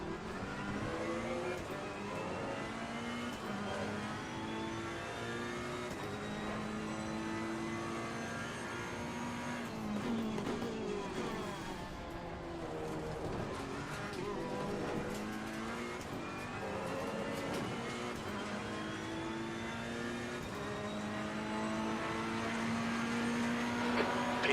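Race car engines in Assetto Corsa Competizione during a league round at Zolder, a steady loud drone of several engines with rising and falling revs, shifting pitch sweeps and a car passing, continuous throughout.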